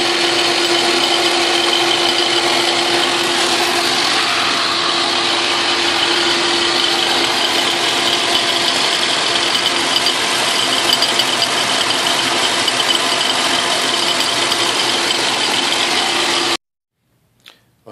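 A nut is milled on a Logan lathe, with a steady high-pitched machining whine and rattle running continuously and loud before stopping abruptly near the end, followed by a brief knock.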